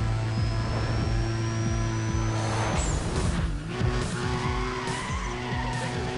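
A Nissan Skyline R34 racing in Need for Speed ProStreet, its tyres squealing and skidding through corners over a loud, droning engine, with a second squeal midway and no talk.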